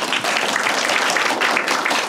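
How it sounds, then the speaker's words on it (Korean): A dense, steady wash of audience applause fills a film screening and Q&A hall, many hands clapping at once without pause, loud and close, no voices over it. "박수 한번 부탁드립니다."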